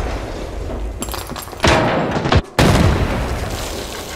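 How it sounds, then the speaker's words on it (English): A grenade blasts in Arena Breakout: Infinite, a sharp close boom followed by a brief dropout and a second heavy burst, with gunfire texture around it and no talk. "that nade downed me"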